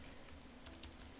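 Typing on a computer keyboard comes through as a few faint, quick key taps over a steady background hum.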